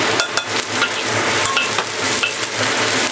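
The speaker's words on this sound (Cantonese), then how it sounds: "先頭咧燒咗一陣鑊啦，咁咧就先爆咗啲蒜頭先" Garlic stir-fried in a preheated wok, a loud continuous sizzle with scraping and stirring clatter throughout, no talking.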